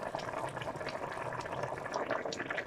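Oxtail ngombo (okra) sauce boiling in a pot after simmering for about twenty minutes, a steady bubbling and gurgling wash that is close and continuous, with no talking.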